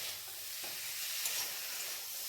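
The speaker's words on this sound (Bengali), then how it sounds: "দিয়ে এবার মোটামুটি 3 থেকে 4 মিনিট মতন আমি এটাকে কষিয়ে নেব" Potatoes and peas are sautéed with spices for aloo dum, giving a soft, steady sizzle. It stays fairly faint and even throughout, with a light stir midway and no talking.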